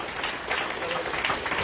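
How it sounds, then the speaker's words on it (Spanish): A church congregation gives a brief burst of applause for the Lord during a sermon, a soft, steady wash of clapping heard from a distance. "denle un aplauso grande al Señor"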